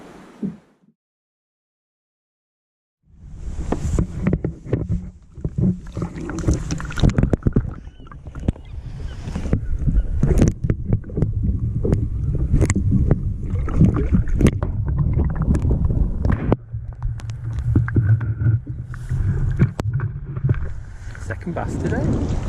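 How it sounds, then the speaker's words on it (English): Kayak paddling back into Cadgwith Cove on rough sea off Cornwall's Lizard Peninsula, with continuous wind and water wash and repeated close paddle splashes and knocks. "This is just paddling back into Cadgwith Cove."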